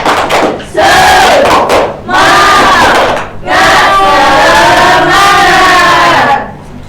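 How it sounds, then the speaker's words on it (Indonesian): A classroom of children performing a rhythmic group clapping chant, loud shouted unison phrases in several bursts separated by short pauses, close and energetic. "mari kita tepuk semangat dulu ya anak-anak, biar kita belajar tambah semangat"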